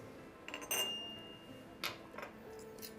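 A Baccarat classic crystal chandelier drip pan is handled, giving a few faint glassy clinks and one thin ringing tone in an otherwise quiet room.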